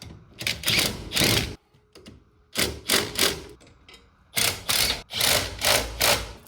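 Pneumatic impact wrench hammering on the brake caliper bolts of a Mercedes 190D W201 during a brake job, loud close bursts in three groups with short pauses between.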